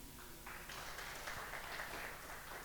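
Faint, distant congregation applause at a Saturday church gathering, a soft steady patter of many hands that runs for a few seconds without a clear ending.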